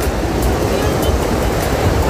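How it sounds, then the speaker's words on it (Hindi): Ocean waves breaking on Panambur beach near Mangalore, a loud continuous wash of surf with wind rumble, heard close and steady. "देख सकते हैं कितना खूबसूरत लहरें आ रही है"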